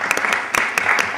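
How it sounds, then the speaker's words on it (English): Audience applause at a legislative press conference, a short dense burst of clapping at close range with no talk over it. "Let's give him a round of applause."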